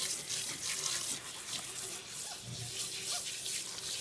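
Water runs steadily from a tap into a sink being filled for a Yorkie's bath, a soft continuous splashing stream that is fairly faint and close.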